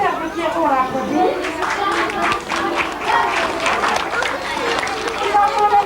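A crowd at a club gathering claps for a child dressed as Pierrot, scattered applause mixed with lively chatter and shouting voices throughout, fairly close and busy.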